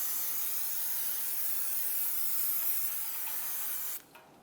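Parts cleaner sprays in one long steady hissing blast onto the rear hub of a 2002-2006 Honda CR-V during a brake shoe job, fairly close, then cuts off abruptly followed by a brief sputter.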